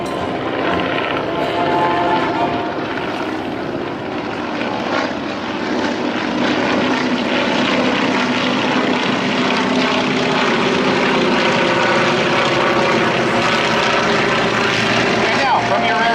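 Propeller airplanes flying in formation at the 2013 Hollister air show, a steady droning engine roar from overhead at moderate distance, with an announcer talking over it.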